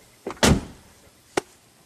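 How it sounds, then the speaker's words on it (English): A Volkswagen Passat's car door, checked during a repair, shuts with a solid thud, followed by a short sharp click a second later, close up with no talk. "the door opens and closes perfect"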